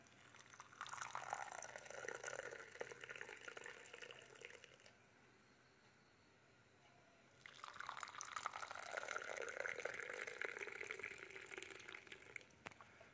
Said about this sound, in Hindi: 5 कप में हम पानी डाल देंगे।